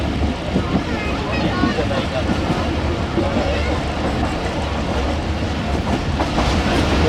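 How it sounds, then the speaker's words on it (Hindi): Musa Pak Express railcar rolling slowly out of Multan, a steady loud rumble of wheels with faint clickety-clack and wind buffeting throughout, close and continuous. "तो फाइनली ट्रेन हमारी आहिस्ता आहिस्ता छोड़ रही है जो मुल्तान शहर को।"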